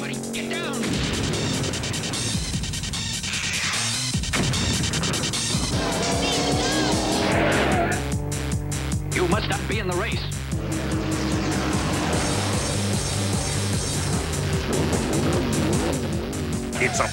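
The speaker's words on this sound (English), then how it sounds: "Speed Racer is coming to Cartoon Network for four hours of do or die racing" Race car engines roaring and tires squealing in a Speed Racer cartoon commercial, revving whines and crashes layered with a dramatic music score under an announcer's voice throughout.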